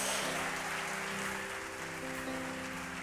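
A church congregation applauds together in a steady, dense wash of clapping that carries for the full few seconds, with sustained organ or keyboard tones underneath and no voices standing out.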